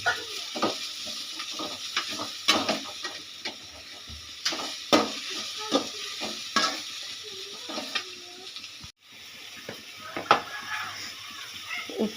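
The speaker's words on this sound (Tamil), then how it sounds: "பீன்ஸு வெங்காயம் கருவேப்பிலெல்லாம் எடுத்து வச்சுருக்கோம் இல்லையா, அதை அதில் போட்டுக்கலாம். போட்டு நல்லா வதங்கட்டும்." Beans, onion and curry leaves sauté in a pan with a soft steady sizzle, punctuated by scraping stirs and spoon clinks against the pan, while a person talks nearby.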